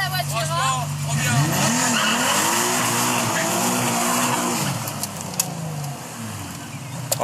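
A Nissan 300 driven hard makes loud, sustained tire squeals and skids over a revving engine, the pitch sliding as the car slides, then easing off near the end with a few sharp knocks, with voices talking over it.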